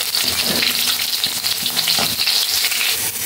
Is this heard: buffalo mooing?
no